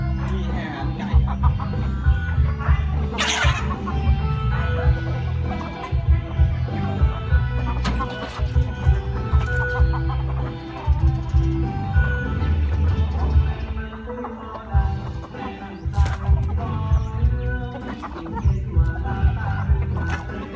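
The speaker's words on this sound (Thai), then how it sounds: "ไก่อันนี้ไก่ชนไม่รู้ไก่ชนหรือไก่บ้าน" Village or fighting chickens cluck near the mic in a rural yard, with repeated clucks and calls over a steady low hum, while people talk and laugh through much of it.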